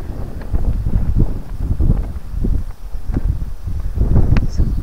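Steady wind buffets the microphone in low, gusty rumbles, rising and falling throughout with no voices.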